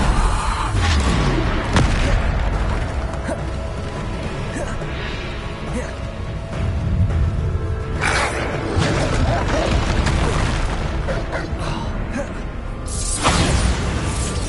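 Bombarda spell explosions in Hogwarts Legacy combat, with repeated booming blasts and crashes at intervals throughout a long stretch of loud, chaotic battle noise, with voices talking underneath.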